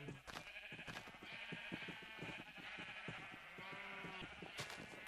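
Sheep in the Minecraft video game bleat repeatedly from nearby animal pens, several short nasal calls overlapping at moderate loudness with brief gaps between them.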